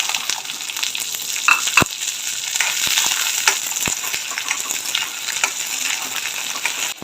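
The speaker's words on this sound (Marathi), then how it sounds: "तेल गरम झालेले आहे आता आपण मक्याचे दाणे टाकून घेऊया" Corn kernels fry in hot oil in a heated wok, giving a steady, close sizzle that crackles and hisses throughout, with a few sharp pops and stirring clatters near the start.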